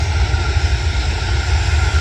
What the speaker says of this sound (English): you see that plane, not that one